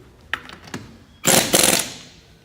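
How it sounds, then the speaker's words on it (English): An impact wrench tightens car wheel lug nuts after a tire rotation. A few quick mechanical clicks come first, then one loud, close, rattling burst of hammering that lasts about a second and fades. "we're just going to tighten the lugs with this impact"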